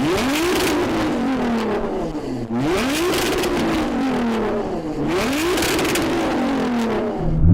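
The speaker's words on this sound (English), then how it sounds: "So I'm going to rev up this tuned GTR." Tuned Nissan GT-R engine revved hard while stationary, three loud rising-and-falling revs in a repeating cycle, each climbing to a high howl before dropping back, close and alone.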